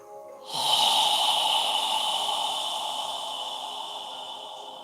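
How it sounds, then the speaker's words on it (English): A slow exhaling breath during a yoga session, heard as a long, steady airy rush that starts abruptly, stays close and fairly loud, then gradually eases over several seconds. "as you exhale, allow your navel to contract toward your spine. Follow your breath."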